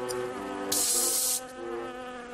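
Fly buzzing in a cartoon, a close continuous whine with a brief louder swell partway through, no talk.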